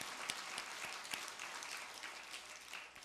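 A church congregation at a Sunday morning service claps in thanks, a soft, distant, continuous patter of many hands that holds steady and tapers slightly at the close.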